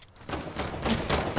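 A powerful pistol in a video game fires a short burst of rapid, rattling shots, fairly quiet and close, with several quick cracks in succession.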